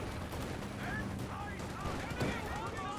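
Stuart light tank firing in Company of Heroes 2, heard as a battle din with gunfire and distant explosions behind steady game ambience, with a commentator's voice running underneath.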